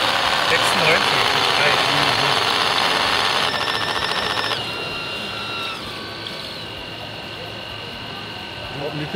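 A model amphibious vehicle's engine runs loudly and steadily with a droning hum and high whine, then eases slightly lower partway through; no talking over it.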